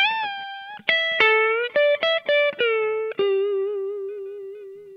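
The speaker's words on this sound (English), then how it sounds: "Now our next lick sounds like this." A solo lick on electric guitar, a handful of crisp picked notes in quick bursts, then a held final note that rings out and slowly fades, played alone and close.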